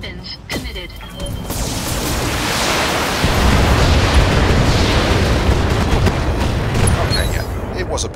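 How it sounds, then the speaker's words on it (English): A volley of SRM missiles slams into a mech and explodes in BattleTech, building into a dense, loud roar of blasts that rumbles on for several seconds. "it was a bit overkill when all the SRMs started hitting as well"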